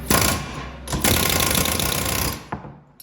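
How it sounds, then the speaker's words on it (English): A pneumatic air hammer pressing a ball joint into a Polaris General 1000 front end, rattling rapidly and continuously, loud and close, with a brief break before it resumes and then stops. "then I just like to hit it with the air hammer"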